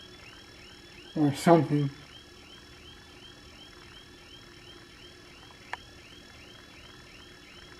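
A car alarm wails steadily in a repeating rising-and-falling pattern throughout, moderately loud, while a person speaks briefly near the start and a single sharp click sounds later.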